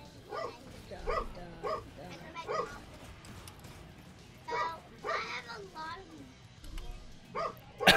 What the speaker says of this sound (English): What is Hagrid barking at,